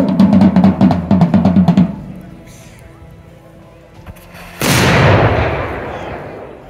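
An early gunpowder cannon fires at a large battle reenactment, a loud booming blast with a long rushing tail, preceded by shouting voices and a quieter lull.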